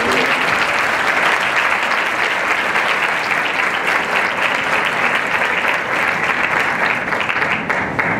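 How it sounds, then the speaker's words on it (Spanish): A conference audience gives a strong, sustained round of applause to welcome a speaker, many hands clapping loudly and continuously, dense and near, tapering only slightly at the very end. "les pido por favor que recibamos con un fuerte aplauso al doctor Rodolfo Gustavo"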